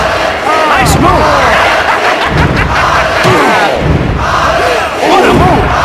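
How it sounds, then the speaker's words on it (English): A video-game wrestling crowd in WWF Attitude on Dreamcast roars and cheers in loud repeated swells over a match. A voice talks over the noise. "Listen to this crowd."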